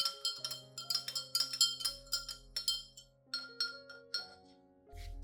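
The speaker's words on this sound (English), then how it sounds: "Then stir well to let the nutrients from the rice dissolve into the water." A spoon stirring rice-soaked water in a cup makes a run of bright clinks against the cup, about a dozen taps in an uneven rhythm, close and clear over soft background music.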